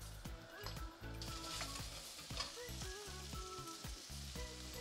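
Peanuts briefly fried in a wok with thickened sauce for kung pao chicken, a soft steady sizzle with occasional light stirring scrapes, faint and close, no speech.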